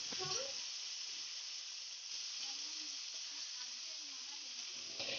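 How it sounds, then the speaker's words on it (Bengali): Taro stalks frying with spice paste in a pan give a steady, close hiss and sizzle throughout, with a voice talking quietly underneath. "এইবারে এই কচুর ডাঁটগুলোকেও মশলার সাথে খুব ভালো করে ভেজে নিতে হবে"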